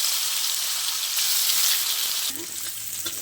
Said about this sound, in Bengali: তেলের মধ্যে আমি মাংসগুলো দিয়ে মাংসগুলোকে ভেজে তুলে রাখবো